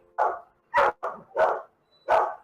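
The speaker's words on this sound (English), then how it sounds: "That damn dog you still hear somewhere." A dog barks five times in a video game, sharp evenly spaced woofs with short silences between them, moderately close and heard alone.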